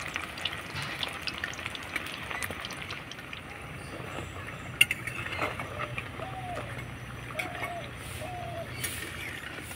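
Food fries in oil in a pan over medium heat while being turned, a soft, continuous crackle with scattered faint pops and a few clicks, with a voice now and then in the background.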